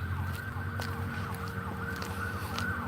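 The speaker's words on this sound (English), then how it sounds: "You hear that? Bulldozers, sirens." A distant emergency siren wails steadily over a low traffic rumble.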